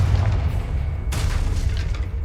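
The Confringo fire spell in Hogwarts Legacy on PS5 lands as a single booming blast over a dense low rumble of game sound, with a brighter burst in the middle of the short stretch.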